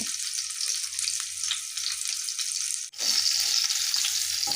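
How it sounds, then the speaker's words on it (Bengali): A capsicum egg omelette fries in light oil over medium-low heat, giving a steady close sizzle that breaks off briefly in a short gap, then resumes slightly louder, with no talking. "দু তিন মিনিটের জন্য মিডিয়াম টু লো হিটে ভেজে নেব"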